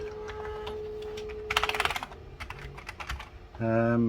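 Keys are pressed on a Commodore Plus/4 computer keyboard, giving a close burst of rapid plastic clicks followed by scattered single taps, with a brief electronic tone at the end.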